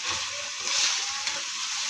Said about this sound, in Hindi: हम इसमें पानी ऐड करेंगे